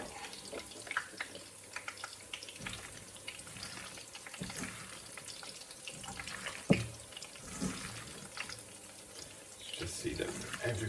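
Tap water runs into a sink while hands are washed in a home kitchen, a faint, steady splashing hiss that goes on throughout, with a few light clinks.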